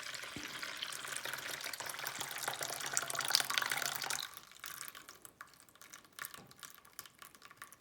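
Water is poured steadily into a bowl on a kitchen scale for bread dough, a continuous close splashing fill that stops abruptly after about four seconds, followed by quieter drips and small handling noises.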